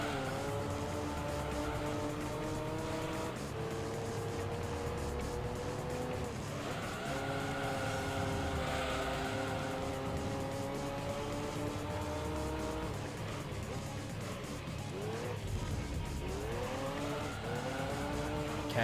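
Race cars roar through a Gran Turismo 3 race, with a Camaro and a Viper among them. Engine tones rise and fall steadily through gear changes, loud and continuous, with tire squeal on the turns.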